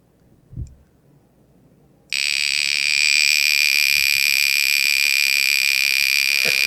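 A wind-up mechanical alarm clock from a collector's set starts ringing abruptly after a faint click, then holds a loud, continuous, steady bell ring close by with no talking.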